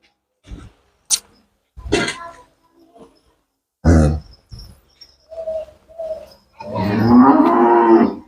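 A cow lows at a dairy farm, low drawn-out calls with a longer moo at the end, mixed with bird calls and scattered nearby noises.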